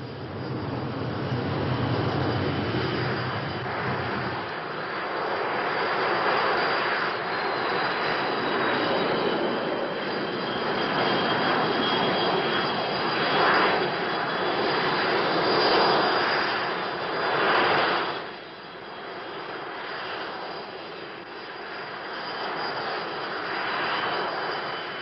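Military jet training aircraft flying in patrol formation in 1968, giving a steady, loud engine roar that drones on for the whole span and swells slightly near the end, with no voices.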